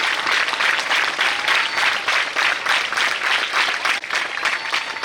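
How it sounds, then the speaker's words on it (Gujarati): Audience applause for a motivational speech at a school campus, a steady loud wash of many hands clapping with slight swells, continuous throughout without voices. "ખરેખર તાળીઓ થવી જોઈએ."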